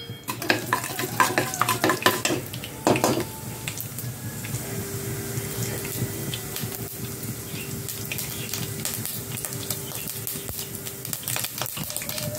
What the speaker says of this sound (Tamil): ஆயில் காஞ்ச பிற்பாடு கடுகு போட்டுக்கலாம்.